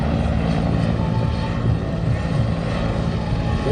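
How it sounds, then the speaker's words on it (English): Helicopter flying at an air show in Toronto, a loud, continuous rotor and engine roar with rhythmic chopping, close and steady for the whole stretch. "Now, keep your eyes on this helicopter here, folks"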